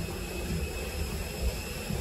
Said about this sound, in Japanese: ということで飛行機に乗り込みました。